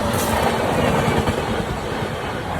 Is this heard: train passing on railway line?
yes